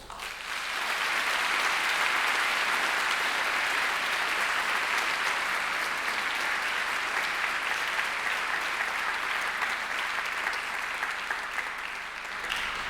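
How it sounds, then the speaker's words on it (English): A graduation ceremony audience gives a steady, sustained round of applause that fills the hall from start to finish, dense and even with no voices over it. "show your appreciation of those who taught and worked alongside you by a"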